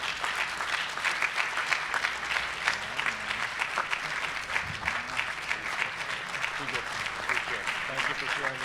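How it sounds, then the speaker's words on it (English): Steady applause from a gala audience honoring James Terrile, dense and sustained throughout with faint voices mixed under the clapping. "a round of applause for James Terrile"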